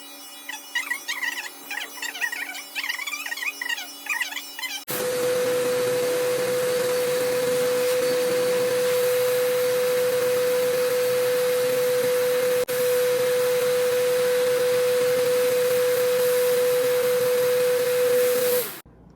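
A vacuum cleaner starts up after a brief quieter moment and works over a yarn rug, running as a loud, steady whine with a constant hum for about fourteen seconds before cutting off.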